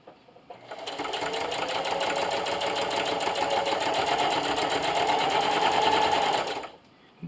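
A sewing machine runs continuously while stitching a fabric lanyard, a fast even needle rattle starting and stopping abruptly, close and clear with no talking.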